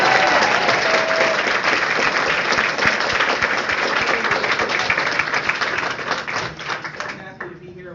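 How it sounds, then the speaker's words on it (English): A crowd at a library panel on national security in Henrico County, Virginia, breaks into full, dense applause that holds strong for about seven seconds and then thins out at the end, with some voices mixed in. "How about giving a round of applause if you love librarians?"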